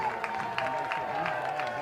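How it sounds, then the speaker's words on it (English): Baseball crowd at a college tournament game cheering and applauding steadily after a leadoff single, a moderately distant wash of clapping and voices. "You can hear the crowd getting lively out there."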